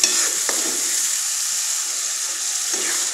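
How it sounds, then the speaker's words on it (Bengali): Spice masala for a broiler chicken bhuna sizzles steadily as it is stir-fried in a pan, a continuous hiss with a couple of faint scrapes from the spatula. "মশলাটাকে ভালোভাবে কষিয়ে নিতে হবে"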